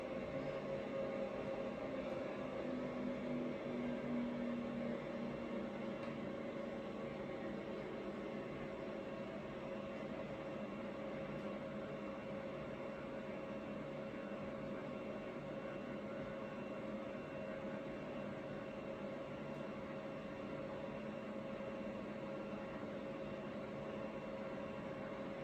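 A Cessna 182 engine drones in a flight simulator game, a steady continuous hum with faint tonal whine throughout as thrust is added to climb, with no voices.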